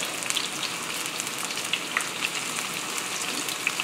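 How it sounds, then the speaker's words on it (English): Catfish sizzling and spitting in a hot pan of oil, a steady dense frying hiss with scattered pops throughout, close and alone. "We're cooking the catfish."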